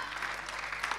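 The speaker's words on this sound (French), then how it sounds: "on peut encore les applaudir" An audience applauding singers after a performance, a continuous patter of many hands with a few sharper claps standing out, fairly soft and distant.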